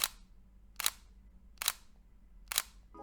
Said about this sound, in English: this is the ZV-E10 in single shot mode